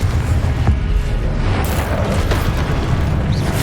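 Blasting spell explosions from Hogwarts Legacy combat boom loudly and continuously with deep rumbling bursts over dense game sound effects.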